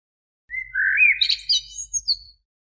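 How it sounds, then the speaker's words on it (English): A blackbird sings a short, clear phrase of rising whistled notes and quick chirps, about two seconds long, close and isolated against silence. "Blackbird."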